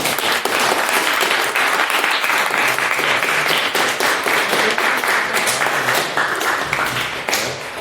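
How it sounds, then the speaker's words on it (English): Loud, dense applause from an audience at a society's annual general meeting, clapping for the candidates after a round of questions, continuous and close with sharp individual claps throughout. "Can I get a round of applause for our candidates?"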